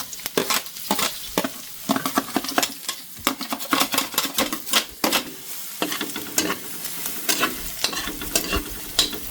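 Garlic frying in a pan on a stove while being stirred, with a constant sizzle broken by frequent close scrapes and clinks of a utensil against the pan in an irregular rhythm.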